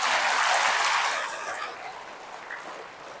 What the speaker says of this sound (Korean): 남성분들 향해서 박수 한번 쳐주세요